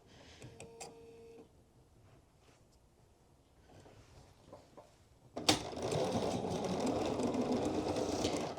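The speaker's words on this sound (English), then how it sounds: "So now I'm going to top stitch the 1/4 of an inch down on the body here" A few quiet taps and clicks come first, then a sewing machine starts suddenly and runs a loud, steady top stitch a quarter inch down the body of a hoodie near the neckband seam.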